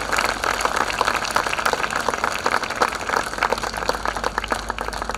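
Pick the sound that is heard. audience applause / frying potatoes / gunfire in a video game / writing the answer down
audience applause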